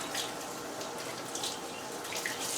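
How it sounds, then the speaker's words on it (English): Warm water runs from a sink faucet for rinsing hands during handwashing, a soft steady stream that splashes continuously at low volume with no voices. "Then turn the water back on, and we want a warm water."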